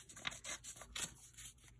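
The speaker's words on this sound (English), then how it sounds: "I just will take scissors and cut it to be rounded" Scissors snip through kinesiology tape to round off a corner for knee taping, a few quick close cuts in a quiet room.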